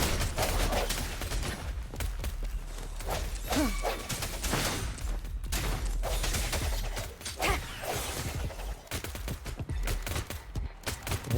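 Enemies fire guns nonstop in the video game Wuthering Waves: a dense, loud barrage of overlapping shots and whooshing bursts that keeps going for the whole stretch, with only brief dips.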